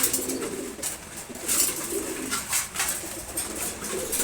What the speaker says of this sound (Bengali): এখানে হচ্ছে ঘিয়াচুল্লি নর কবুতর,